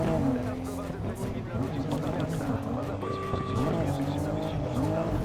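Cars drift in the Need for Speed Heat video game with a loud, continuous engine roar and sustained tire squeals that rise and hold, while people talk over the action.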